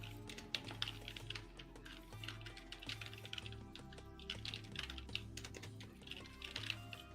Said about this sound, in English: Core, your keyboard is hot mics. We can hear it